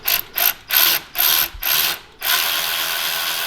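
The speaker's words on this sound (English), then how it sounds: "drive this bolt in there, and it separates the bales of this driven pulley to allow you to be able to slip the belt off" A bolt is driven in by a ratcheting tool to spread the halves of a driven pulley on a supercharged 670cc buggy, heard as loud, close bursts of rapid ratchet clatter in about five pulses, then one continuous longer run.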